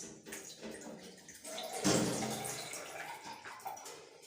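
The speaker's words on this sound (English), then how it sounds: "Then after you add it a little water, then sieve it." A herbal mixture with a little water added is poured through a sieve, giving a continuous splashing, trickling pour close by. It grows a little louder near the middle and then settles into steady dribbling. No speech.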